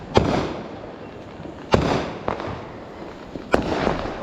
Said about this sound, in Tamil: இதுதான் இப்போ வந்து ஃபன்னுக்கு ராக்கெட்.